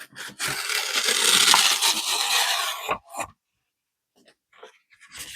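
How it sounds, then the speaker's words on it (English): A watercolor painting on paper being torn, one long loud ripping tear lasting about three seconds, then a short second rip and faint rustling before near silence. "I have this watercolor that I did a while back, and I'm just going to tear it"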